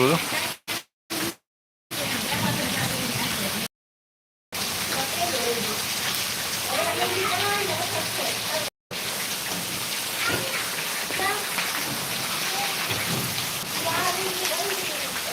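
Heavy rain pours steadily in a dense hiss, with low rumbles of thunder and people talking over it; a few brief dropouts break the sound.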